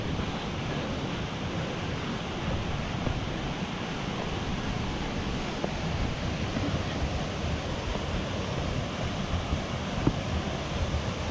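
A waterfall in Cloudland Canyon gives off a steady, broadband rush of falling water that stays even and unbroken throughout, heard at moderate distance with no voices.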